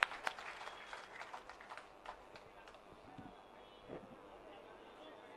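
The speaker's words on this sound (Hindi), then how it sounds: "संजय भैया, जोरदार ताली।" A crowd at a political gathering claps loudly for Sanjay, sharp applause bursting at the start and then thinning into scattered claps beneath a hubbub of voices.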